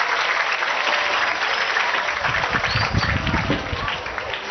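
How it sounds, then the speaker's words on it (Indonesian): Broad, sustained applause from an audience at an Islamic religious talk in honour of a preacher, steady dense clapping throughout with a heavier low rumble of clapping and movement building in the second half. "Boleh tepuk tangan buat Ustaz Selamat."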